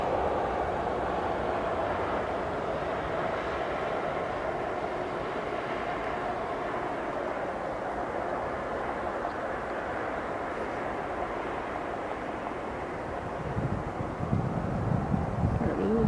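A jet airliner takes off at Philadelphia International Airport, a steady, broad engine roar with wind buffeting the microphone that holds throughout and swells louder near the end, with no talk over it.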